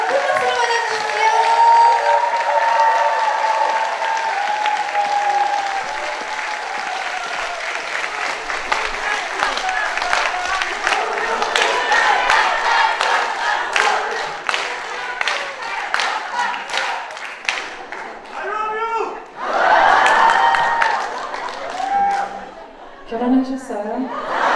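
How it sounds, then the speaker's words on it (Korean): An audience at a humanities talk concert gives a long round of applause and cheering to welcome a performer, clapping dense at first, then thinning, with a voice speaking over the crowd and some scattered calls. "여러분 큰 박수로 맞아주십시오."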